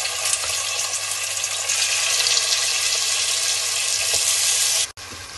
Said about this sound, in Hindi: सबसे पहले हम इसको हल्का सा फ्राई करते हैं ऑयल में।